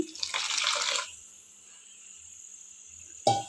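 Lentil water cooked with ginger and garlic pours briefly into a pot with a splashing rush, then fades into quiet hiss with faint insect chirps before a short clatter at the end.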